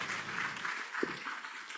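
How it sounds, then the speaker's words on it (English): Applause from an audience at a national engineering conference session, a steady wash of many hands clapping at moderate distance, even and sustained with one brief louder knock midway. "A round of applause, please."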